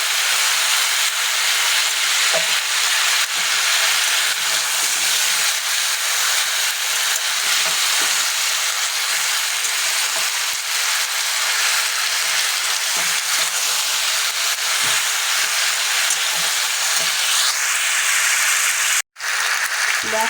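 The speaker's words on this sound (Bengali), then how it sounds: "ভালো করে ভেজে নিই।" Potatoes and onions for a simple curry sizzle continuously in a hot pan, a steady broadband frying hiss close up, with a brief clatter near the end.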